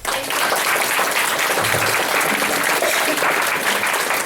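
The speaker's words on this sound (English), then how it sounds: "Can we give our candidates a round of applause" An audience at a candidate forum claps for the candidates, a steady, full round of applause filling the room, with a brief voice heard over the clapping.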